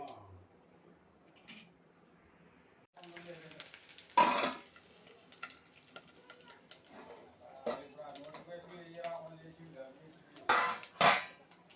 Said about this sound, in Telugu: కరివేపాకు, ఎండుమిర్చి ఎలా వేగినాయి కదా